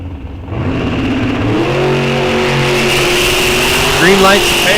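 At Rock Falls Raceway, bracket drag race cars launch from the line with a loud, rising engine roar that builds and holds as they accelerate away, while an announcer talks over the noise.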